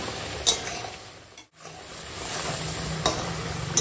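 Fried pabda fish cooks in a bubbling mustard gravy in a pan, a close steady sizzle broken by a brief dip and a few stirring clinks.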